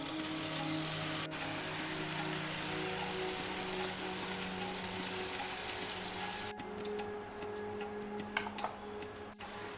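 Mushrooms cooking uncovered in a heated pan with oil and a little ghee, a soft steady sizzle with a faint ticking under a low hum, quieter after a pause near the end.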